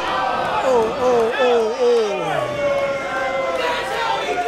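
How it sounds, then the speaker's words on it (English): A pro wrestling crowd at an Inspire Pro Wrestling event reacts with loud, sustained jeers and shouts from many voices, rising and falling in waves near the listener. "Listen to the crowd."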